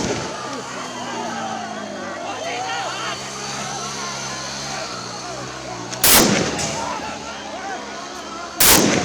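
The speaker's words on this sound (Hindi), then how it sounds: "इसके बाद पुलिस ने पत्थरबाजी कर रहे नौजवानों पर गोली चला दी।" Police gunfire at stone-throwing young protesters near Nepal's parliament: two sharp, loud shots ring out a few seconds apart over a steady, rumbling crowd din.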